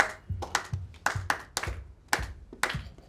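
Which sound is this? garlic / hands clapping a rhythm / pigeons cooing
hands clapping a rhythm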